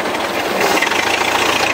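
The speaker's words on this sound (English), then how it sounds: "I don't want to overspeed the engine." A stock 1926 Model T speedster engine runs steadily at speed, a continuous broadband roar with wind rush and a faint rhythmic clatter, loud and close with no talking.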